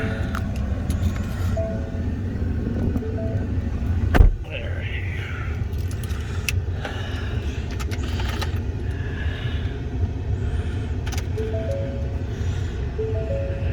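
A 2019 Ford F350 XLT pickup truck runs with a steady low engine rumble throughout. A sharp clunk midway sounds like the start, and the idle settles afterward, heard from inside or close by.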